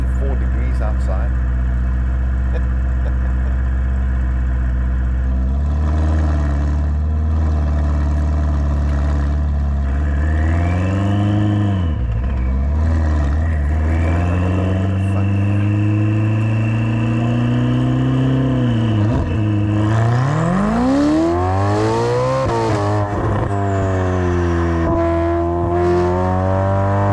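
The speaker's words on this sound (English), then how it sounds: "I actually can't believe that I'm driving a 488 Pista." A Ferrari 488 Pista twin-turbo 3.9-litre V8, heard from inside while driving: a loud steady drone that rises and falls as it revs up and shifts through the gears, with someone talking over it throughout.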